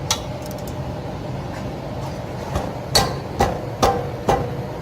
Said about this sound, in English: The caliper brackets are normally on pretty tight, but I'll do it with my wrench